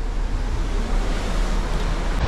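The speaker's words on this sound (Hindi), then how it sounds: "लहरों की आवाज़ सुन रहे हो?" Ocean waves wash steadily against a ship sailing toward Sri Lanka, a continuous broadband surge heard from the cabin balcony, close and fairly loud with a touch of wind noise and no talk.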